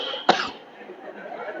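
A voice imitates an elderly imam's single short cough in a mosque sermon, one abrupt burst followed by quieter murmuring voice.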